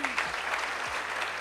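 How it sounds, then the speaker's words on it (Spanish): Audience applause at a Spanish-language product experience panel, dense clapping filling the whole short moment at steady loudness, with no talk over it. "un aplauso para todos"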